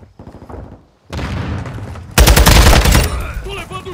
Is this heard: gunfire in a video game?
yes